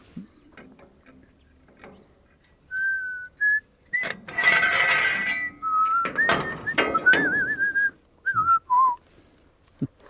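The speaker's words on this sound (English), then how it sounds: "Whistle while you work" Someone whistles a short, wandering tune up close while building a truck crane extender for moving beehives, the notes broken up by clattering and knocking sounds in between.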